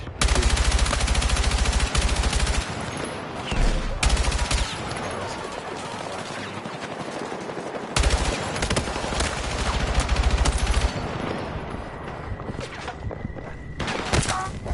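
Battlefield 6 gunfire, bursts of automatic weapon fire rattling in repeated strings at close range, with a player talking over the shooting.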